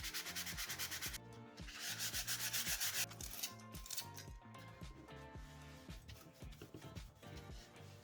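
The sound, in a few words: sanding a rough wooden puzzle piece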